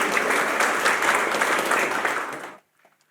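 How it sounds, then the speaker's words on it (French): Applause from a live studio audience, a dense burst of clapping that holds steady for about two and a half seconds, then cuts off abruptly into near silence. "on applaudit pour vous"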